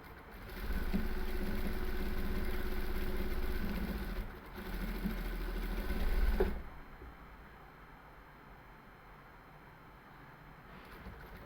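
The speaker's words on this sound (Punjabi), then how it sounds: "ਇਸ ਤੇ ਵੀ ਆਪਾਂ ਸਲਾਈ ਲਾਵਾਂਗੇ" A sewing machine stitches a fabric strip for a sleeve, a faint, close motor whir running in two bursts with a short pause, then stopping into quiet room tone.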